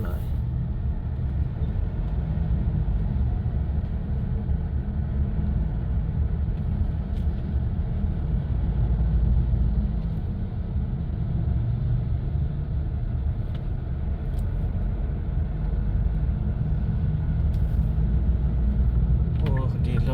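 Cars drive past on a road in a steady, loud, continuous rumble of traffic throughout, with no clear breaks between vehicles.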